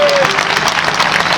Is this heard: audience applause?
yes